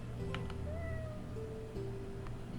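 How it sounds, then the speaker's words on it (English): A cat in the farming video game Travellers Rest meows softly when petted, a couple of brief, faint mews over a steady low in-game background hum and music. "I can pet the cat."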